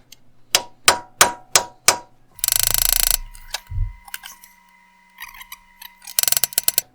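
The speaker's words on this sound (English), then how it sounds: "go back to the hammer with this tool and see if that helps." Sharp metallic hammer strikes on a tool working a collapsed lifter in a Chevrolet AFM engine ring out in a quick series, then a burst of rapid mechanical rattling and a few more clanks, with quiet gaps between.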